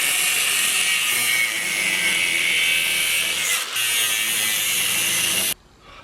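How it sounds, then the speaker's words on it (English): An angle grinder cuts through the body metal of a Nissan 240SX with a loud, steady, close-up high-pitched whine that runs unbroken for several seconds, then cuts off abruptly into near silence. "I got the angle grinder, make our first cut"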